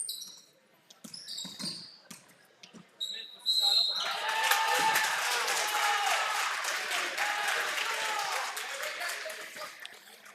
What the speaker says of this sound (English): standing ovation from the crowd for something.